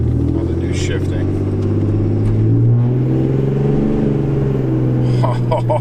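A tuned Cummins diesel truck accelerating and shifting gears on a slope, a loud close engine drone that rises in pitch, drops at a shift and climbs again, with people talking inside the cab.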